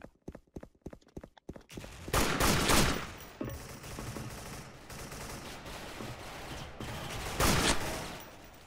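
AK rifle gunfire in the video game Special Force, rapid bursts of shots at the start followed by louder volleys and ongoing battle noise, with peaks near the middle and end.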